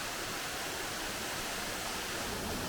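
Steady roaring rush of a waterfall on Hawaii's Big Island, a continuous dense wash of falling water heard fairly close and unbroken, with no one talking.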